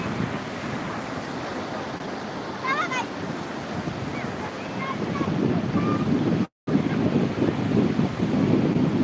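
Sea waves wash and rumble against the shore amid gusting wind, with distant voices calling briefly over the surf.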